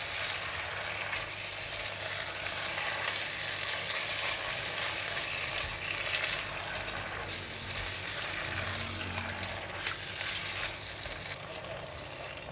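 Blanched razor clams stir-frying with Thai basil in a pan, giving a continuous close sizzle with scraping stirs throughout and a faint background hum.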